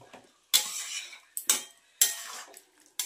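Spices, ginger, garlic and onion are stirred in a pan with a metal utensil, giving three sharp scraping strokes with short pauses between them, close and clear with no talk.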